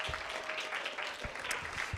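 A congregation claps at a Korean Baptist church's Christmas Sunday worship service in Boise, producing a continuous close wash of many hands with a few sharper individual claps standing out.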